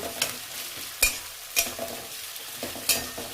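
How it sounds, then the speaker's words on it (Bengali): Sliced onions frying in hot oil for a potato chicken curry, a soft sizzle broken by several sharp scraping stirs of a spoon against the pan. "এইদিকে তো পেঁয়াজটা ভাজা হচ্ছে।"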